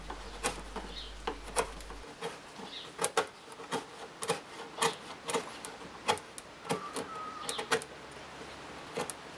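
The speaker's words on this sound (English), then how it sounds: "I'm smoothing off the surface with some handheld paring cuts" A hand-held wood chisel taking paring cuts to smooth a rounded corner, producing a series of short, close scraping strokes at an uneven rhythm with no talk.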